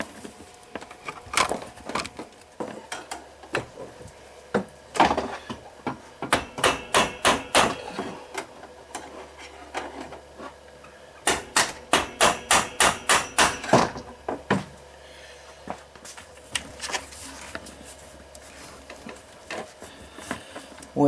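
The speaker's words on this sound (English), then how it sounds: "took a screwdriver and a hammer and just tapped on the other side of this starter motor" Hammer taps on the side of a Polaris Sportsman ATV starter motor during removal, coming in quick rhythmic bursts of sharp metallic knocks separated by pauses, close and fairly loud.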